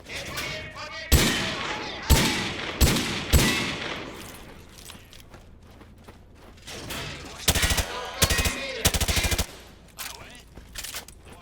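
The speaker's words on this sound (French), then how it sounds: "Moi, je tire tout ce qui bouge." Rapid gunfire in the Call of Duty Modern Warfare 2 Campaign Remastered video game: loud single shots, then several quick automatic bursts, mixed with game noise and talk.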